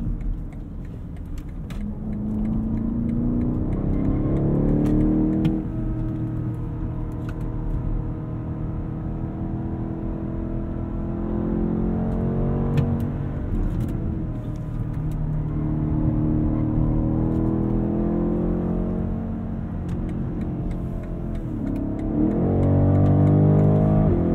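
A 2020 BMW X7 M50i luxury SUV with a V8 accelerates hard in sport mode, its engine rising in pitch through several gear changes, heard from inside the cabin loud and steady with no talking.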